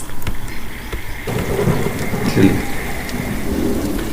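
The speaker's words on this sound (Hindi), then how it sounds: "तेज बारिश होगी." Heavy rain pours steadily with rolling thunder rumbling through, loud and close, a dense hiss of falling water and deep low booms continuing without pause and with no talking.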